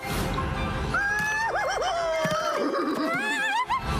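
A horse in the video game Skyrim whinnies in a long, wavering, high neigh that rises and falls over several seconds, loud and close against steady background ambience.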